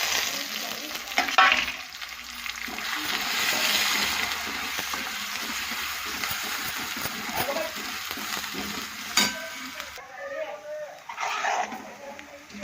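Green garlic and potato greens sizzle and fry in a pan, a steady hiss broken by stirring scrapes, with a person talking over the cooking.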